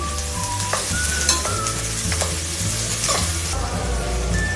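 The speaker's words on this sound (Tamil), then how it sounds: "இதை நல்லா வதக்கிக்கலாங்க" Onions and curry leaves sautéing in hot oil give a steady close sizzle with spatula scrapes and clinks against the pan, continuous and fairly loud, with no voices.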